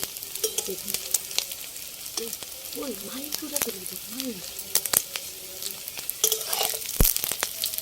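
Fish roe koftas frying in oil, a steady crackling sizzle with clicks and scrapes of a utensil, while a voice speaks briefly in the background.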